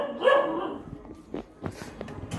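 Dog barks in the Minecraft video game, a few short yips and barks with a whimpering tone, fairly close and standing alone against quiet background sounds.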